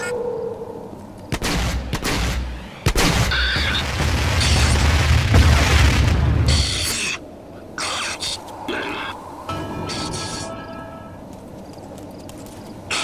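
Repeated loud booms and crackling bursts of fireworks in the video game Rage, some sharp and some rumbling, with a dense stretch of explosions in the middle.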